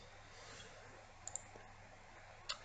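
A computer mouse clicks a few times during QGIS mapping work: two quick, faint clicks, then another a moment later, over a steady low hiss in a quiet room.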